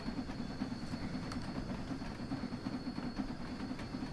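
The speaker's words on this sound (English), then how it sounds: "nice shot of the train as it goes over the bridge" A train crosses a bridge in the winter setting of Train Sim World 2, giving a steady, continuous rumble with a faint rhythmic clatter throughout and no voices.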